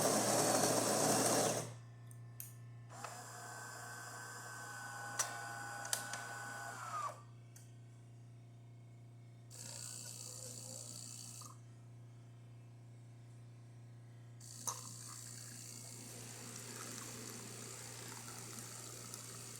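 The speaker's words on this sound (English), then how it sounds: "let's go ahead and test the machine, make espresso shot on it." A DeLonghi Magnifica S espresso machine, just serviced, pulls an espresso shot: a buzzing pump drone comes in and out over a steady low hum, with short mechanical clicks between the bursts.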